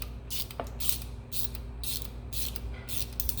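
A 1/4-inch ratchet works Allen bolts loose on a Peerless 2300 transmission from a John Deere 110, making short bursts of rapid close clicking separated by brief pauses.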